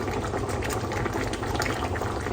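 Dal with eggs simmering in a pot: a steady, even bubbling and gurgling, close and fairly loud, running without a break.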